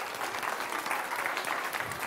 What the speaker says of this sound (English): giving these respectful kid listeners a big round of applause